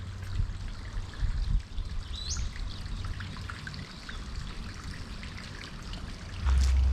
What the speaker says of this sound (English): Just listening to the water